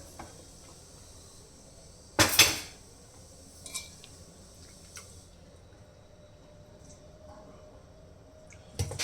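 A metal pot clanks as it is set down inside a pressure cooker holding water and a couple of lemon pieces, while masala rice is being made. One sharp clatter is followed by a few fainter clinks in an otherwise quiet kitchen.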